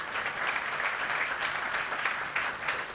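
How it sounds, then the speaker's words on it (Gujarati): An audience at a youth association's comedy evening in Mumbai claps steadily and densely, a loud, even wash of many hands with no voices over it. "એ તમામ દાતાશ્રીઓને આપ ખૂબ ખૂબ તાળીઓથી વધાવો."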